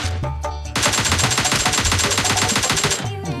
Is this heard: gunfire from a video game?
yes